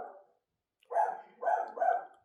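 A pet dog barks at people passing outside on Halloween, three loud, close barks in quick succession after a brief softer sound and a short pause.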